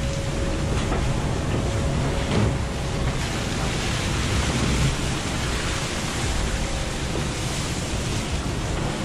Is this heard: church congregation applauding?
no